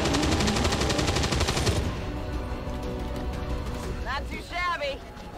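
Rapid bursts of gunfire in the XCOM 2 War of the Chosen strategy game, dense and loud at first, then dropping to a softer rumbling bed with a faint voice near the end.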